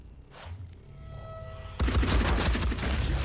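In the turn-based game Phoenix Point, an enemy fires on a squad engineer, producing a sudden dense burst of rapid gunfire that starts abruptly after a quiet hum and rattles on loudly to the end.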